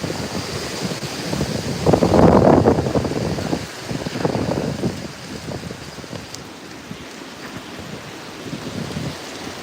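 Hurricane wind gusts in Santa Cruz, Jamaica, with sustained winds near 150 and surges over 100, roar as broadband rushing noise that swells into a loud gust early on, then eases into a steady, turbulent blow buffeting the microphone.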